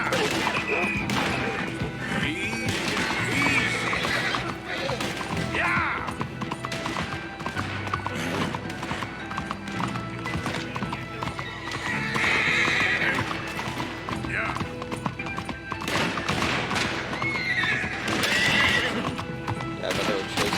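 Horses whinny and neigh repeatedly in Red Dead Redemption 2 gameplay, with hooves clip-clopping steadily underneath and occasional crashes and hits, all at a loud, close level throughout.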